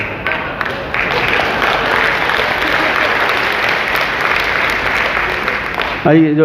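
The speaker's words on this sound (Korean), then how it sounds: "박수 계속 치시니까?" An audience claps steadily throughout, a dense sustained round of applause from a crowd at a talk, with a voice breaking in briefly at the end.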